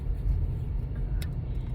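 Steady low engine and road rumble from inside a moving car, continuous and fairly loud throughout with no talking.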